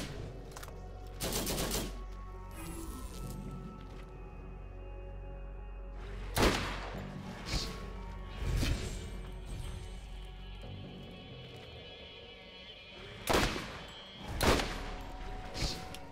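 Gunfire in the video game Borderlands, sharp loud bursts of shots at irregular intervals, some single cracks and some rapid clusters, over a low steady game background with no talk.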